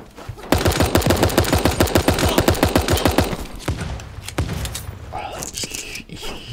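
A submachine gun in the online game Super Animal Royale fires a long rapid burst of evenly spaced loud shots for about three seconds, followed by scattered single shots and game effects, with a voice talking over the gunfire.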